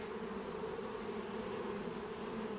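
Dense, steady buzzing of many honeybees swarming close around a beehive near its old entrance, a continuous droning hum that stays loud and even throughout with no talking.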